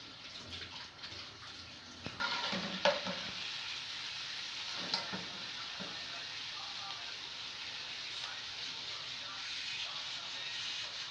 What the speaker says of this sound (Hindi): हल्का सा सौते करना है।